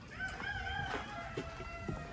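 A rooster crows from a short distance amid farmyard clucking and background noise, its call drawn out over a couple of seconds.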